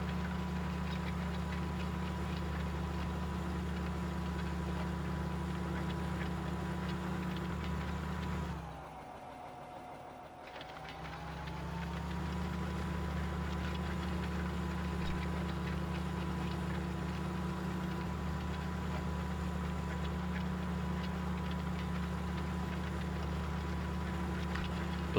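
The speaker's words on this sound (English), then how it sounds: "Alright, bring up a blue tractor." A blue tractor engine in Farming Simulator 2015 runs steadily at a constant hum, with a brief dip in pitch and loudness partway through before settling back to its even drone; no talk.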